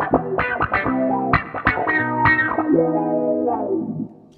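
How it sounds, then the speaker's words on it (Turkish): An electric guitar plays a short phrase through a Zoom G2R Richie Kotzen multi-effects pedal set to an auto-wah tone with slight delay and reverb, the sweeping, vowel-like notes ringing out clearly before fading. "wah pedalınız yoksa veya wahlı bir ton, otomatik wahlı bir ton kullanmak istiyorsanız mesela böyle bir ton yazdım"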